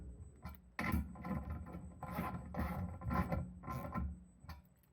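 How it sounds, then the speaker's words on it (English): A ratchet snugs bolts on a Stockbridge-style vibration damper before pole erection, giving several close, loud bursts of mechanical clicking and metal rattle in uneven groups over five seconds, with no talking. "Snug these up with a ratchet."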